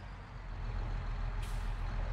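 A truck in Farming Simulator 22 drives past with a steady low engine rumble and road noise, close and fairly loud, with a brief hiss partway through and no talk.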